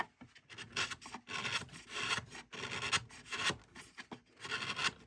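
A chisel shaves and scrapes along the inner edge of a wooden lyre, cutting a chamfer in short, close bursts of rough rasping with brief gaps between strokes.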